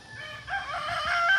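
Chickens cluck and call nearby, a mix of bursts and crowing-like squawks with light background noise.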